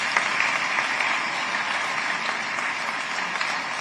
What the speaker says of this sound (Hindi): भाई तालियां बजनी चाहिए।